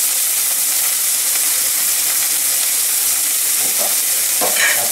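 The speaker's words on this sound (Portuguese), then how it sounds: "deixamos apurar os nossos bifinhos" Chicken breast steaks sizzle loudly and continuously in a frying pan with white wine, a dense hissing fry with a few stirring clatters near the end.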